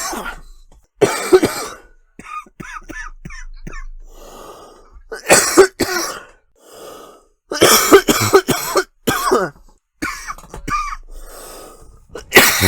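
One person coughs repeatedly in close, harsh bursts, some single and some in rapid clusters, with throat clearing and heavy breaths in between, as if several coughing fits were cut together.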